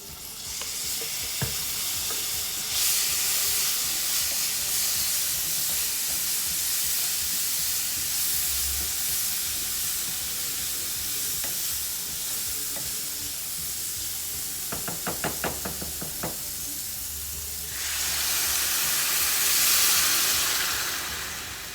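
Garlic and rice sizzle steadily in a hot pan, with scraping stirs and clicks partway through and hissy surges of frying at the start and near the end.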